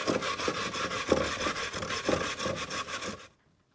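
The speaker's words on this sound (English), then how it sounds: "I'm grating them on that funny fine tooth side of the box grater." Yukon Gold potatoes grated on the fine-tooth side of a metal box grater give a close, steady rasping scrape in quick repeated strokes for about three seconds, then stop abruptly.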